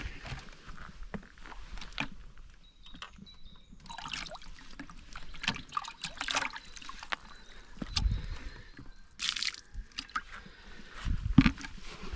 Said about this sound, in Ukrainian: Набираємо водички трохи.